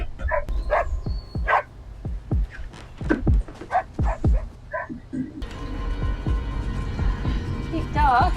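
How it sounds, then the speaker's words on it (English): A small dog yips and barks in short, irregular bursts close by, with occasional whimpers, before a louder stretch of background noise and music takes over. "Cute dog."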